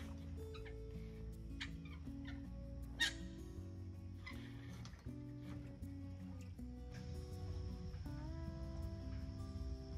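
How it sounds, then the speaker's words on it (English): A flock of geese flies over calling on a river in October, heard from a small O'Day Osprey sailing dinghy; repeated honking calls over steady background noise, fairly loud and continuous, with no talking. "a flock of geese is flying over and being fairly vocal"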